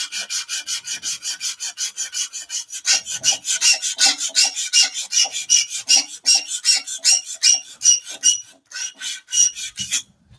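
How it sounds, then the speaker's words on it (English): Wooden flower parts being hand-sanded with abrasive mesh strips, a steady rhythmic back-and-forth rasping at close range, quicker strokes in the first few seconds, then heavier, slower strokes, with no talking. "I'm just going to go a slightly larger bit of timber and just carry on your sanding."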